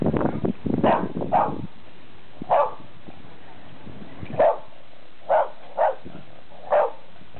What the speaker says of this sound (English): There's my very loud dog.